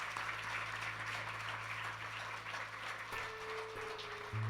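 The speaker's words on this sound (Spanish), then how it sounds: "Un fuerte aplauso al Señor." A church congregation claps during a Spanish-language worship service, a soft, distant patter of applause with a sustained low hum and tonal notes from instruments or amplification underneath.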